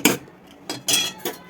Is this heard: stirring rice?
yes